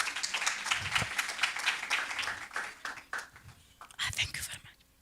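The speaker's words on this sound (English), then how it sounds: "A round of applause for Tsabentlane." Audience applause at a university faculty research day, a round of clapping after a presenter finishes, fairly close and dense, tapering in the middle before a second burst near the end, with some voices mixed in.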